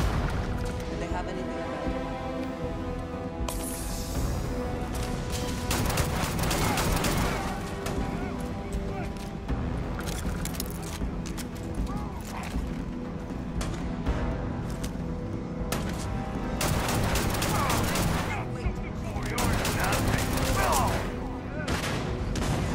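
Rapid bursts of gunfire fill a firefight in the video game Starfield, with shots cracking almost constantly and loud throughout, mixed with other combat noise while a voice talks over it.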